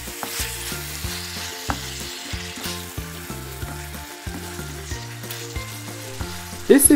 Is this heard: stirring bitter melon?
yes